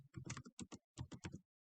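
Quiet bursts of keystrokes on a computer keyboard, a few quick taps in two short groups separated by a brief pause, close and alone.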